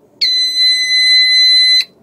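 A Headhunter Tank Sentry WTS-1500B alarm buzzer sounds as one loud, steady, piercing electronic tone, close up, for about a second and a half before cutting off abruptly.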